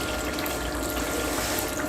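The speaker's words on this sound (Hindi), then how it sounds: "मुझे पानी और डालना पड़ेगा" Water poured into a cooking pot of desi chicken being stewed for Mumbai biryani, a steady close rushing flow that holds even for two seconds with no talk.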